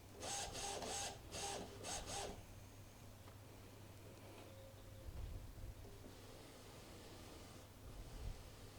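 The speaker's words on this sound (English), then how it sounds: "the printer should start to prime and pull that through" An Epson WF-2010W inkjet printer priming newly installed ink cartridges whirs and clicks in quick mechanical bursts at the start, then settles into quiet, faint ticks and a soft background hum.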